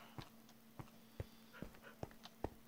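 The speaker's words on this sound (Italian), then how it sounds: "Qua c'è il mio cane" A pet dog in a Minecraft world makes faint, short yips and panting sounds in a loose irregular rhythm over a quiet, steady background hum.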